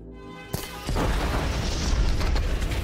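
A large planted bomb goes off in an action film. A brief click and quiet lead into a sudden loud blast that rolls on as a heavy, sustained roar.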